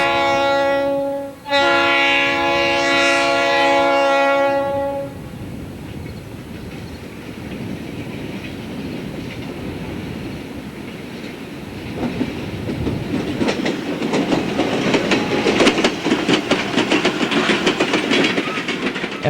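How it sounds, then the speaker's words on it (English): A Union Pacific intermodal freight train sounds a long horn blast, then rumbles loudly across railroad diamonds with rising, rapid clattering of wheels over the crossing, with no voices. "Union Pacific gets into the action as an intermodal train slams across the diamonds."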